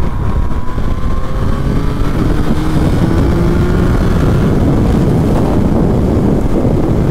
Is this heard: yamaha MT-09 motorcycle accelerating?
yes